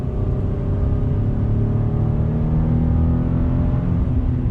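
Steady, loud engine drone of a 2020 GMC Canyon Denali midsize pickup accelerating from inside the cab, a smooth rising hum with faint upshift changes and no voices.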